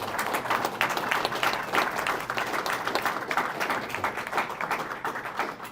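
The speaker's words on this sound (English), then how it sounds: "Give a round of applause for the good doctor." An audience at an evening talk applauds in dense, sustained clapping that holds steady at a moderate level from start to finish, with no speech on top.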